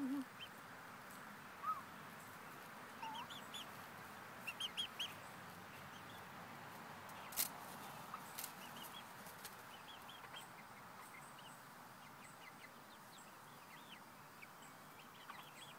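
Backyard chickens make soft clucks and short calls at a distance, scattered over quiet background ambience, with faint low voices.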